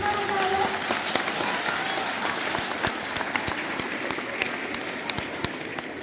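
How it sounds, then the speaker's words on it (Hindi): Children clap in rhythm at a Children's Day public gathering, with crisp repeated claps over a dense crowd murmur that fades slightly as the clapping grows sharper and more regular. "हम तालियों से गाते हैं सब कुछ"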